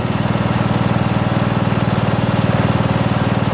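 A Craftsman LT1000 lawn tractor with a 15.5 HP Briggs & Stratton engine runs steadily at low throttle, a close, loud, even chugging drone with no sputtering and no voices.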